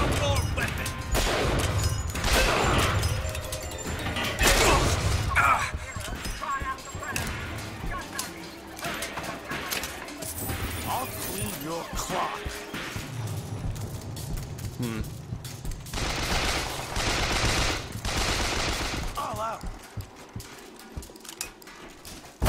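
Gunfire in the shooter Bioshock Infinite aboard an airship, loud repeated bursts and cracks in uneven clusters, with crashes and a voice speaking at times amid the shooting.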